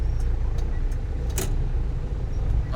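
A jeepney passes along Commonwealth Avenue near a concert stage, its engine a steady low rumble mixed into continuous busy street traffic noise, with no clear approach or fade.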